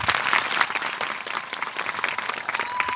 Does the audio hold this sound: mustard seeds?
no